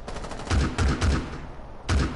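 Bursts of automatic gunfire from a shooter video game, several loud rapid volleys with heavy recoil separated by short pauses, close and punchy with no talk over them.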